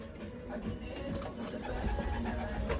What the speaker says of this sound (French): Ils ont de la musique, hein, les pigeons.